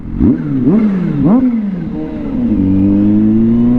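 Kawasaki ZH2 motorcycle, a 2023 model, revving in three sharp bursts that climb and fall, then holding a steady rising pitch as it accelerates on a road near a bridge, loud and close with no talk.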